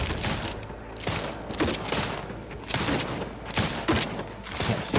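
Sustained bursts of gunfire from a combat scene in the video game The Outer Worlds 2, repeated loud volleys of rapid shots with thumps in between, dense and close throughout.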